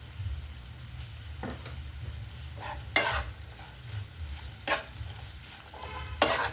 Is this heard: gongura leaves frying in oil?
yes